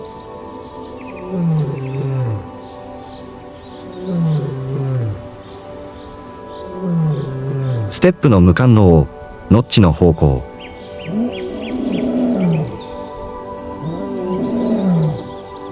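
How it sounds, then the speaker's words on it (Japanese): A male lion roars at dawn in Kenya's Maasai Mara, a series of deep, loud, close grunting roars repeated through the stretch, under a narrator's voice, with a couple of sharp bursts midway. "深い轟音が静寂を破った"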